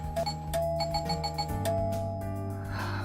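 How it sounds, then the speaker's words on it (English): A bright, bell-like doorbell chime from the video game How To Date a Magical Girl rings out in a sequence of clear ringing tones with a low sustained hum beneath, fading at the end. "I've always liked the little chime that rings out whenever someone comes to visit me."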